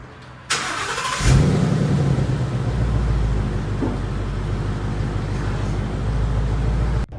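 A 2016 Ford Mustang GT with its stock exhaust starts up with a sharp crank and surge, then settles into a loud, steady rumbling idle close to the microphone, ending abruptly.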